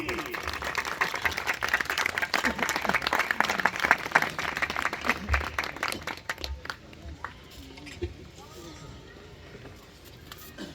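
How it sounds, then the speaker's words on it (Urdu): A rally audience at a big public gathering in Thara, Dadyal, Azad Kashmir applauds to welcome a speaker, with dense clapping that thins out and fades after several seconds, leaving scattered claps and room noise. "آپ تالیوں کی گونج میں ان کو یہاں پر بلائیں گے"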